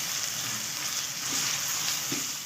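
Onions softening in a pan for khara masala keema, a Pakistani minced-meat dish, giving a soft steady sizzle with faint stirring, quiet and continuous without talk.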